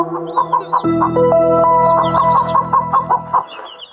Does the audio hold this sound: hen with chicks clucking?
yes